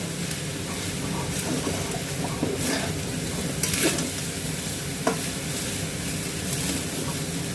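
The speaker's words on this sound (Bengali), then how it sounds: "এটা এবার ভালো করে মেশাতে হবে।" Fried rice being stirred in a hot pan, a steady scraping and sizzling with a few sharper utensil knocks, close and continuous with no talk.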